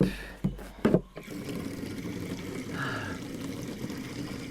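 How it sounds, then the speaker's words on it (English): Water pouring during an outdoor water walk, a steady liquid stream that follows a couple of sharp handling knocks and continues at moderate level to the end. "Oh, you can see me pour water."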